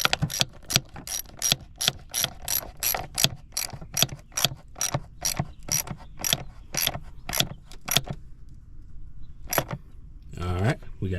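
A hand ratchet tightening bolts on a Chevy engine during a PCV valve install, with rapid clicking strokes repeated steadily, a pause, then a few more clicks and a short rattle, close up.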